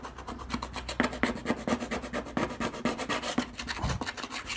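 An old sticker is rubbed off an outboard boat engine cover after spraying with WD-40, producing a rapid, rhythmic series of close scrubbing and rasping strokes with no talk.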